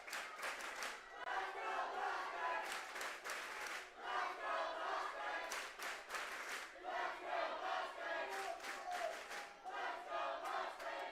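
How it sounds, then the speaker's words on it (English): Mustang fans at a state championship baseball game roar and clap in surges from the stands, a loud crowd cheer with bursts of applause rising and falling over several seconds, heard from a distance. "The Mustang crowd that had their air horns and Cowbells confiscated just a few innings ago, now getting loud again."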